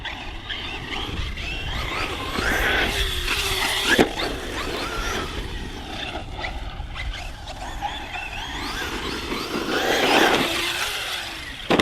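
A Hobby King Berserker RC car running on a 6S battery with 300k center diff oil drives continuously outdoors, its motor whine rising and falling across the run, with brief bumps and a surge near the end.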